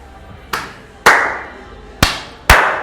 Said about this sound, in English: Do the clap thing.